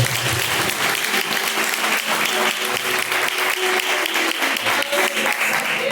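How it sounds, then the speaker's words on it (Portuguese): A congregation applauds during a Pentecostal church service, with dense, loud, steady clapping that runs without a break from start to finish. "As palmas que louvam o nome do Senhor."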